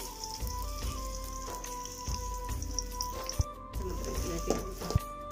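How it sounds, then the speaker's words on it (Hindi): Onions frying in oil in a kadai over a medium flame, a soft steady sizzle with regular light tapping and stirring knocks underneath. "ले लेंगे हम लोग किसी भी साइज़ की कढ़ाई और इसके अंदर ऐड करेंगे ऑयल और नीचे से फ्लेम जो है वो मीडियम है"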